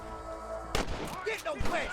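A single sharp gunshot cracks loudly, followed by echoing rumble and game sound effects, with a voice speaking briefly afterward.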